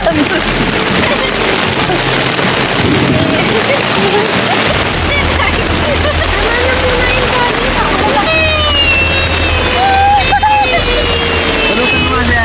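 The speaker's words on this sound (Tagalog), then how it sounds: "Lakas ng ulan sa kahangin," Heavy rain and gusting wind batter a beach campsite during a storm, a dense, constant roar close by, with family members talking and calling out over it throughout.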